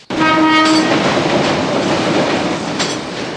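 A train rumbles loudly past, opening with a brief horn blast, then a steady roar of wheels and cars clattering along the rails.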